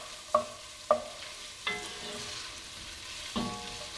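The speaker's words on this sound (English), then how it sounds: "So I'm going to let this saute until the onions have softened and everything is tender and the onions are translucent." Onions, cabbage and garlic sautéing in a pan for Southern-style braised cabbage, a low steady sizzle with four distinct metallic clinks of a utensil against the pan, close and without speech.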